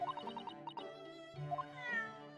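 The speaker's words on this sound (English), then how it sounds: "there's a fully animated cutscene of a kitty" A cat meows repeatedly in an animated cutscene of The Great Ace Attorney Chronicles video game, a string of short, clear, close mews running alone with no talk over them.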